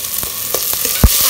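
Onion, tomato and two sweet chilies fry in a pan, giving a loud, steady sizzle close by, broken by a few sharp scraping stirs.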